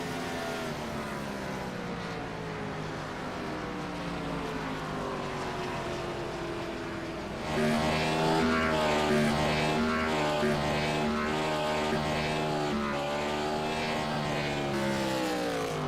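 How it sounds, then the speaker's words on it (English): An IROC race car at Darlington doing a burnout on the front stretch, a sustained engine drone with wavering pitch that rises and grows louder midway as revs climb, continuous and close. "Incredible burnout here on the front stretch, making me dizzy just watching it."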